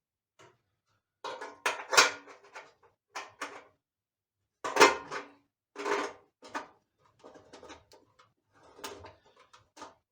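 The filler cap on the fuel tank of a mini-tractor engine is worked shut by hand, a run of sharp plastic clicks, scrapes and knocks in uneven bursts with short pauses, close and fairly quiet.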